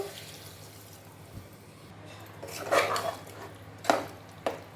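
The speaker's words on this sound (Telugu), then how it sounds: "మిక్సీ జార్లో వాటర్ వేసుకున్నాను దీన్ని మొత్తాన్ని దీనిలో పోసేస్తాను" Water from a mixer jar poured into a pan of potato and soya chunk masala curry: quiet kitchen background, then a few short splashing, clattering bursts as the liquid goes in.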